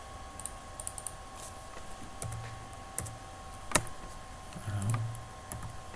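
Computer keyboard typing, sparse light taps with scattered clicks and one sharper key strike, near and fairly quiet over a low steady hum, with no speech.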